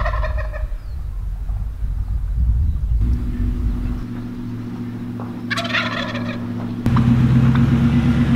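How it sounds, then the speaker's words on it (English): Turkeys gobbling inside a chicken coop, several loud bursts of gobbling calls over a low rumbling background, with a louder steady hum joining late. "It looks like some turkeys got right into the chicken coop."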